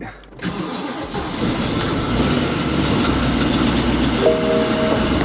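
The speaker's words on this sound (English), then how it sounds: "So I'll just fire her up again quick." A crash-damaged BMW M3 engine cranks and catches, then settles into a loud, uneven, rough idle that runs steadily to the end, with a faint tone creeping in late.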